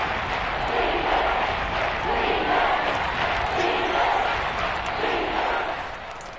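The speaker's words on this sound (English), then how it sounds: "the crowd getting into it as we come up on a big third down" Football stadium crowd roaring steadily ahead of a big third down late in a league game, a dense, sustained wash of cheering voices at moderate distance with gentle swells and no distinct single voice.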